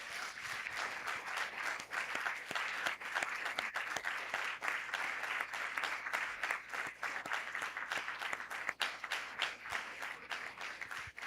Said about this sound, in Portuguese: Eu queria um grande aplauso ao Ministério Infantil das nossas casas.